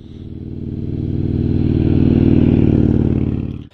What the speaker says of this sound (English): get your motor running, let's ride